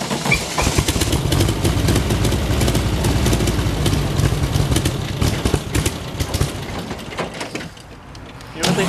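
A dune buggy engine runs loud and close while being given gas, a steady, rough, rattling roar that holds for several seconds, then dips briefly and picks back up near the end.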